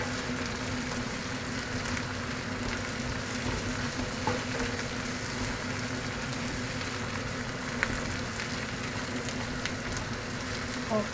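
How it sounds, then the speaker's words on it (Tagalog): Curry leaves fry in a hot pan for chicken curry, giving a steady, even sizzle and crackle that runs unbroken the whole time, close and moderately loud, with no voices. "Fried ko lang tong ating curry leaves."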